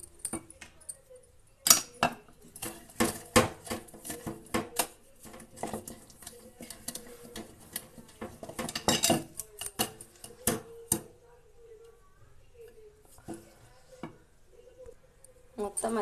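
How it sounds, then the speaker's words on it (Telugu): Food being stirred with salt in a pan, a run of close clinking, scraping strokes for about eleven seconds, then quieter scattered scrapes. "ఇప్పుడు కొద్దిగా ఉప్పు వేసుకొని వీటిని గెలుపుకుందాం."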